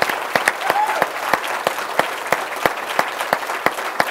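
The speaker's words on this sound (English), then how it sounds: "let us give you a round of applause for what you have done to protect" An audience at a political leadership summit claps steadily and loudly, with a few individual claps standing out in a sparse, rhythmic pattern.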